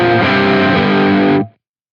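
Electric guitar through an Axe-Fx modeling a Mesa Mark IV in USA Lead Bright Plus mode with a 4x12 Petrucci V30 mix cabinet: a single loud, heavily distorted chord rings for about a second and a half, then cuts off to silence.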